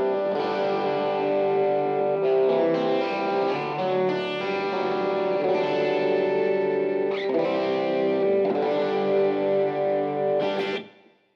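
Overdriven electric guitar plays through an Eon speaker, sustained chords and notes ringing steadily with a distorted, effected tone before cutting off at the end.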